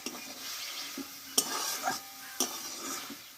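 Pea greens (motor shak) stirred in a pan, a soft continuous sizzle broken by a few sharp spatula scrapes and clicks against the metal, close and clear with no talking.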